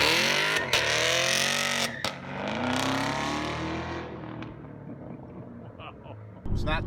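A Camaro SS with a muffler delete and straight pipes gives a loud, rising exhaust rev close by, then the note eases into a lower, fading drone with a brief burst at the end.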